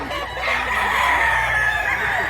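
A rooster crows loudly and close on a farm in Mantalungon, Barili, Cebu, one long drawn-out call held over the steady clucking of chickens.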